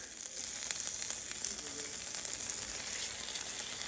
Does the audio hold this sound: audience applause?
no